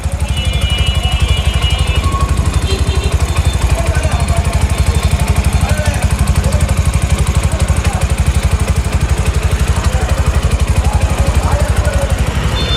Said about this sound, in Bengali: ভিউয়ার্স দেখেন ইঞ্জিনের সাউন্ড